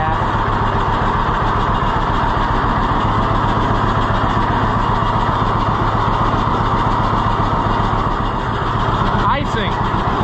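A John Deere B tractor engine idles steadily with a low, even putter that carries on at a constant pace throughout, and a brief clatter is heard near the end.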